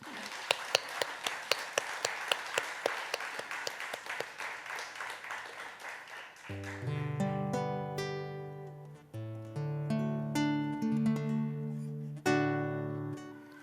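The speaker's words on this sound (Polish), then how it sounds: "dla nich poproszę o krótkie, gromkie brawa" Audience applause at a folk music gathering, a few seconds of brisk rhythmic clapping that fades as a piano or keyboard starts playing and carries on alone.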